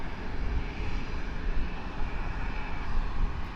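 A Frontier Airbus A321 taxis toward the runway, giving off a steady, moderately distant jet engine rumble and hiss that holds even and unbroken, with no voices.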